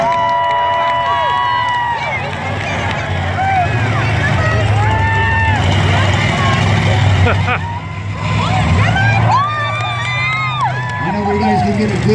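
A demolition derby crowd at the Alaska State Fair cheers and shouts over revving car engines, with an announcer talking throughout and the crowd noise swelling in waves at close range.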